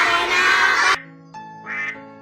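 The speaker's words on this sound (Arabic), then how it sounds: "طارق يقول في دارنا بط" A duck quacking, with a few loud, nasal quacks in quick succession, close and clear with no talking over it.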